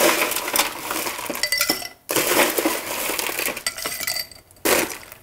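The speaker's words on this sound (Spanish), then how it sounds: "Todo esto lo vamos a mezclar con hielo picado." Mai Tai cocktail ingredients mixed with crushed ice produce loud, busy rattling and clinking of ice in bursts, with brief pauses between them.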